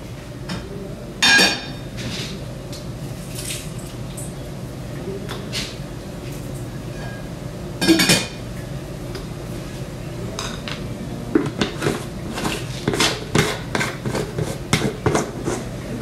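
Toasted garlic is stirred in a pan with a metal utensil, giving scattered scraping clinks and a few sharp louder knocks, with a busier run of clatter toward the end, close up in a home kitchen.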